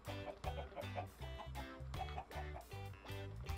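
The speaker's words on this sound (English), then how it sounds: "So we're going to put a couple chickens in." Chickens in the video game Minecraft cluck in a steady, quick run of repeated short clucks, close by and alone.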